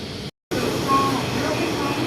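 Steady rumbling ride aboard a Bangkok MRT Yellow Line train from Lat Phrao 83, a continuous rolling hum of wheels and motors filling the cabin after a brief dropout, with no talk.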